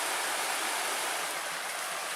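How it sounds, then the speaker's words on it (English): A small waterfall on the Little Carp River in the Porcupine Mountains pours in a steady, broad rushing roar, close and continuous with no voices. "That's a nice smaller waterfall."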